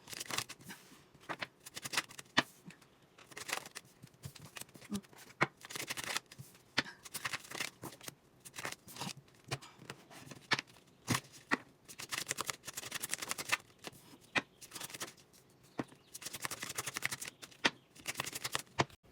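Tarot cards being shuffled close up in a quiet room, a rapid, irregular series of crisp riffling bursts and soft slaps, with no talking.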